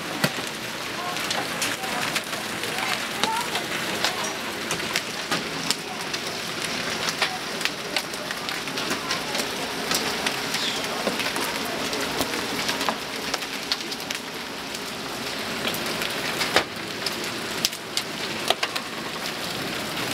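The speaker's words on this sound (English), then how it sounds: "10 minutes of hail." A hail storm in Tamaqua, Pennsylvania, pelts surfaces with a dense, continuous clatter of hard pellets, steady and close throughout, with faint voices underneath.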